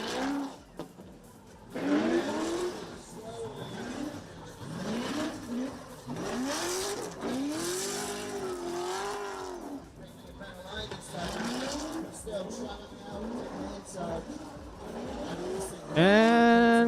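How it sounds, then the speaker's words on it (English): A new gen class drift car on a qualifying run at a Southeast Asia Drift Series round in Indonesia, its engine whining up and down in sweeping revs, with tire squeal rising near the end, all under continuous commentary. "Nice throttle control from Negin."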